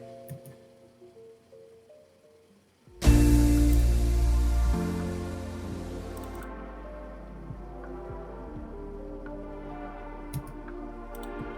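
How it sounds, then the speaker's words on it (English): Sustained chords from a closed grand piano layered with synth pads swell in after a quiet start, then ring out and slowly fade. "So first there is a layer of closed grand piano and some pads."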